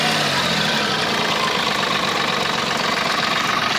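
Engine of a 2016 Tata Tiago XZ car runs steadily with the accelerator pressed, a dense, even mechanical drone with no breaks, close and fairly loud.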